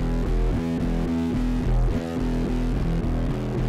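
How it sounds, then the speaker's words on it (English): An electric guitar played through an octave pedal, its mix knob turned counterclockwise, recorded on a Tascam DP-006, gives a deep, throbbing, distorted tone like an aggressive synth bass. Notes pulse in a steady rhythm, loud and alone. "This pedal made this guitar sound like this crazy, throbbing synth bass"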